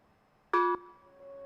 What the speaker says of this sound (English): it's a sound of a gong.